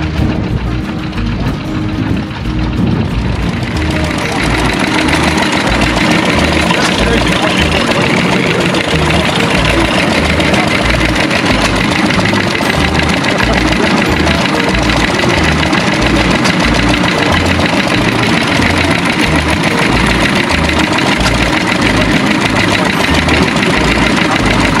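Big farm machinery at a harvest festival in Wetaskiwin, Alberta: all-wheel-drive tractors and large combines idle with a loud, steady, throbbing low rumble that runs continuously and up close, with no talk over it.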